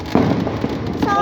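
A fountain firework going off outdoors gives a steady hissing, crackling spray with a couple of sharper pops, while people shout and talk excitedly close by.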